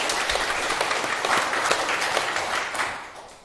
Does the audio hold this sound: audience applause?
yes